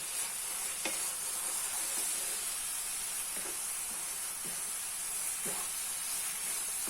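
Steady sizzling of cashews frying in a hot pan, a constant hiss with a few soft scrapes of stirring.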